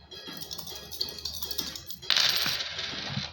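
Coins are tossed for an I Ching reading, rattling and clinking in quick light taps and then landing in a bright metallic jingle near the end, close and clear with no talk.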